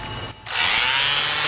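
Power sanding on automotive paint to smooth out a rock ding, a steady abrasive whir that starts after a brief dip and then runs loud and continuous.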